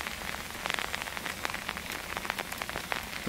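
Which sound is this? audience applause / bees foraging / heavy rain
heavy rain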